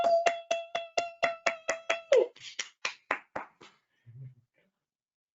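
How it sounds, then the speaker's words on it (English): Clapping as a round of applause from a team on a call: a run of crisp, evenly spaced claps close by, then slower, softer claps that trail off into near silence. "would you just give Jen and our whole team a big round of applause?"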